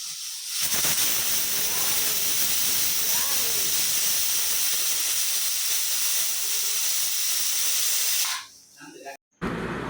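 A pressure cooker vents steam in a steady, loud broadband hiss in a home kitchen while red cowpea gravy cooks, running continuously for about eight seconds before cutting off abruptly.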